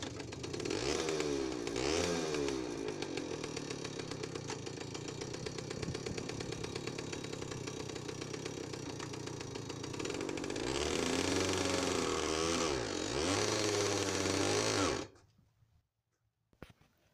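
A Jawa 05 moped's small two-stroke engine runs close and steady after a carburettor fix, its idle rising in a couple of brief revs before cutting off abruptly, leaving near silence.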